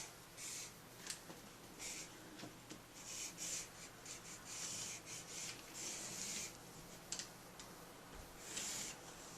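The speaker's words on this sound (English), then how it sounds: "On the side of these, I'm going to draw a new line" A pen draws a new line on a paper sewing pattern for a Peter Pan collar, making faint, close scratchy strokes in short bursts with small pauses between them.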